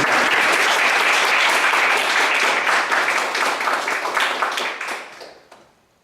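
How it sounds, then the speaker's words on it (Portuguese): A seated audience applauds at the end of a talk on Facebook and engineering, a dense, steady burst of clapping that gradually thins and dies away over the last second. "Salva de palmas."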